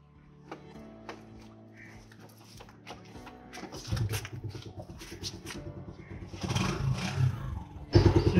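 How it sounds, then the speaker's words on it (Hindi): A motorcycle that would not start after sitting through lockdown has its engine cranked with clattering mechanical knocks, then catches into a rough, uneven idle that grows louder near the end. "इस तरह से जो है आपकी बाइक स्टार्ट हो गई है"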